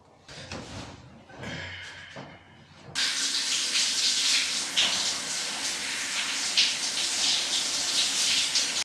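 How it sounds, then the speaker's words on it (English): Shower water runs in a home bathroom, a steady loud hissing spray that switches on abruptly after a few seconds of quieter handling noises and continues unbroken. "Alright, shower done."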